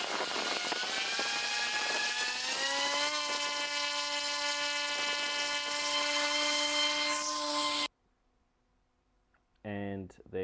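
A Bell UH-1 Huey helicopter's turbine spins up and departs as a strong, steady high-pitched whine with layered tones that shift in pitch, cutting off abruptly into near silence before a brief voice.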